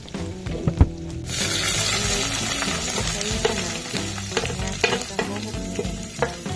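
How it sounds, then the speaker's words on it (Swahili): Onion frying in a little oil crackles loudly from the start, and a spoon keeps clattering and scraping against the pot as it is stirred close up. "mafuta unaweka kidogo kwa ajili ya kupika kitunguu."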